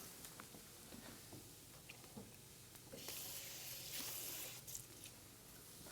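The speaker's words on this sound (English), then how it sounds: "we're just going to loosen it up just a little bit with a little water" Water splashes into a hot pan of reducing sauce, giving a quiet sizzle and hiss with soft bubbling and a brief louder burst of steam.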